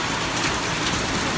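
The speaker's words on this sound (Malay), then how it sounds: "Hujan es, hujan es. Banyak es kan?" Hail pelts down in Tangse, Aceh, a dense, loud, continuous clatter of ice striking surfaces, close and filling the whole moment without pause.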